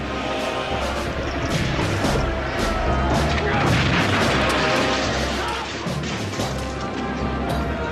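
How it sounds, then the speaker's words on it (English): A dense, continuous din of cannon blasts and gunfire in a naval battle, Lepanto, with heavy booms and sharp cracks overlapping throughout like a raging battle. "The two navies showered each other in cannonballs and gunfire"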